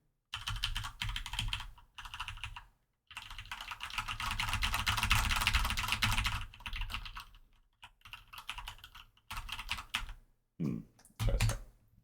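Bursts of typing on a computer keyboard, rapid clicking keys in irregular clusters separated by short pauses, close and fairly quiet.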